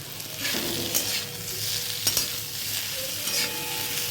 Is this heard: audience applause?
no